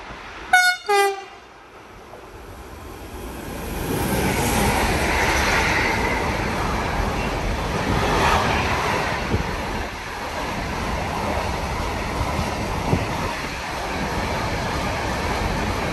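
A train passes through platform 1 at Anzola Emilia station in Italy, opening with sharp horn blasts and then a long, loud steady roar and rumble of carriages rushing by close to the platform.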